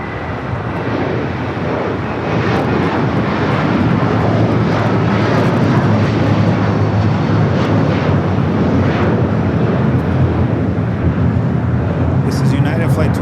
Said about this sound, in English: This is United Flight 2390 going to Honolulu on a 757, 23 years old